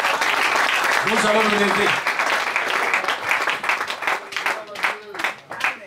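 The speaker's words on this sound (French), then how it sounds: "Donnons une acclamation." Church congregation applauding, a dense continuous wash of clapping that runs throughout and thins slightly toward the end, with someone speaking over it in the first half.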